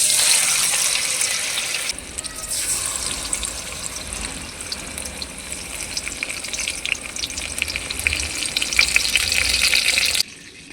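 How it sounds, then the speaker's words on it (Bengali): Batter-coated bok flower fritters fry in hot oil with a bright, steady sizzle that dips briefly as more pieces go in, then crackles on with faint stirring before stopping abruptly. "বাকি বকফুলগুলোকেও গোলা লাগিয়ে নেব আর তেলের মধ্যে ছেড়ে দিয়ে ভেজে নেব।"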